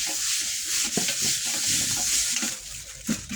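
Leaves from a garden plant rubbed hard against a charcoal-blackened pan, giving a close, gritty scratching and scrubbing noise with uneven strokes and no talk.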